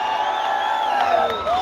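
At an outdoor Mukurino thanksgiving gathering at Kamukunji Grounds in Nyeri, a crowd cheers with high, sliding ululating whoops over a constant wash of noise, steady and fairly close.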